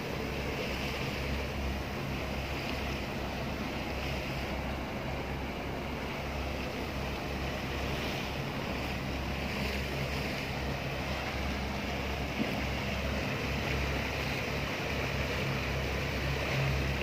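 A boat's engine drones steadily beneath constant wind and water noise, a continuous low hum with no talking, as the boat is towed by a rescue boat.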